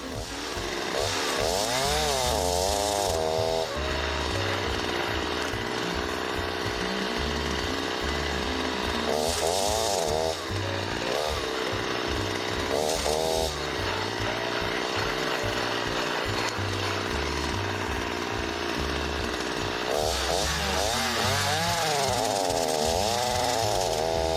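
A chainsaw with over-filed depth gauges cuts hard konara oak firewood. The engine roars loudly and bogs down repeatedly as the chain bites too deep and stalls, then revs back up between cuts.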